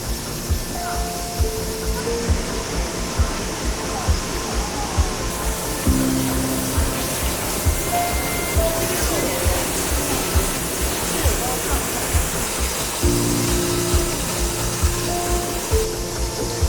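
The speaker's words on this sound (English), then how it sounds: "you always have the sound of these flowing streams, and have these waterfalls" Waterfalls and flowing streams rush constantly through a gorge at the Three Natural Bridges in Wulong, a dense steady roar of water with someone talking over it.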